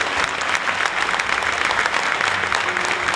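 A concert audience bursts into loud, continuous applause at a corporate event, many hands clapping densely and evenly throughout.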